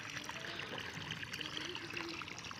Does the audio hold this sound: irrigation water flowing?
yes